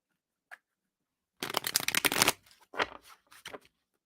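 A single tap, then a loud, close riffle shuffle of tarot cards followed by a few softer bridging and squaring shuffles.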